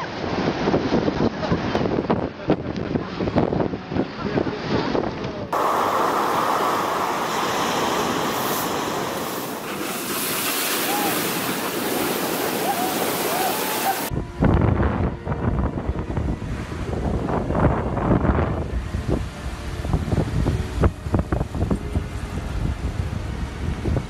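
Strong ocean waves surge and crash onshore under heavy wind buffeting the microphone, a continuous loud roar across several changing scenes, with no talk.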